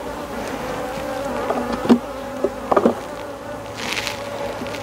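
Honeybees buzz around an open hive as a beekeeper splits it to make a swarm, a dense continuous hum with individual bees passing close by in brief louder whirs, no voices heard.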